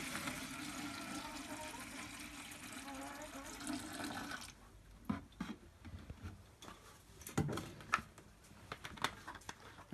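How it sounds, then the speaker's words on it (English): Acetone pours into a plastic bucket with a steady, rushing splash for about four seconds. Quieter scattered clicks and taps follow, and no one speaks. "What we do is we pour the acetone into the bucket."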